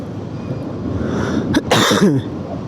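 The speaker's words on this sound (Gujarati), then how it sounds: "મને ઉધરસ પણ થઈ ગઈ છે" A single sharp cough bursts out over a steady outdoor background rumble at Bhavnath Taleti, Junagadh, followed by a brief throaty rasp.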